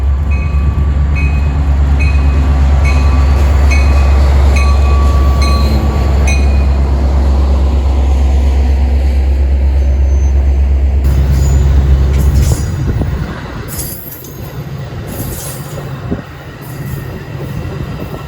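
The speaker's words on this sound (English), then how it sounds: "Right after the West train was Milwaukee District North train 2611 with another of the Metra Heritage units" Metra Milwaukee District North train 2611, led by a Heritage unit in Milwaukee Road colors, rumbles past loud and close with a deep steady drone and rhythmic wheel clicks, then fades after about twelve seconds into lighter rattling and squeals.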